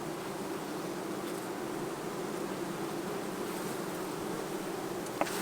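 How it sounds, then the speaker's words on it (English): Honey bees swarm and buzz around an open hive in a hot summer apiary, a dense, steady drone close by that holds unbroken throughout, with one brief sharp tap near the end. "I just shook bees all on my legs."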